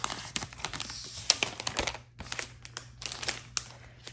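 Unboxing of an Apple Magic Keyboard with Touch ID for a 2021 iMac: close, brisk clicks, taps and crinkles of packaging being handled and opened, in quick irregular bursts over a steady low hum.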